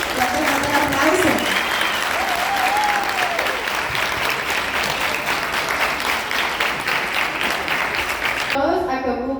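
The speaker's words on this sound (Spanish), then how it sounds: "Gracias por el aplauso" Sustained audience applause at a Peruvian folklore cultural exchange presentation, dense and steady for about nine seconds with voices and a few whistles or cheers mixed in, then cutting off sharply near the end.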